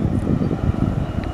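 A jet airliner's engines roar with thrust reversers deployed at CVG airport, a steady loud rumbling rush heard from a distance, with wind buffeting throughout and no pauses.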